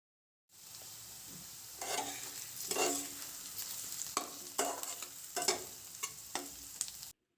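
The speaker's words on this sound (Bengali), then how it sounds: "আলুগুলো ভেজে নেব যতক্ষণ না আলুতে হালকা একটা লাল রং আসতে শুরু করে" Potatoes fry in oil for a rohu fish curry, a soft continuous sizzle broken by a series of sharper scraping stirs at irregular intervals, heard close with no talking.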